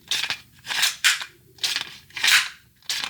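Magazine released from an LFA Apollo 11 double-stack 1911 pistol: about five sharp metallic clicks and snaps, close and fairly quiet, spaced roughly half a second apart, with no talking.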